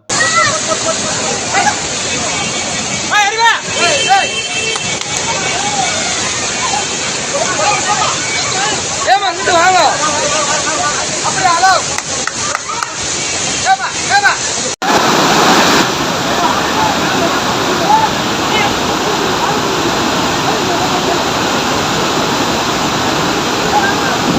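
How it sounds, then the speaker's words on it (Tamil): Kutralam main waterfall near Tenkasi in flood crashes down in a loud, constant roar of water, with voices and crowd babble from people nearby mixed in. "இப்போது தென்காசி பக்கத்தில் குற்றாலத்தில் பார்த்திங்கன்னா மெயின் அருவியில் நல்ல மழை தண்ணி அதிகமாக வந்துக்குது"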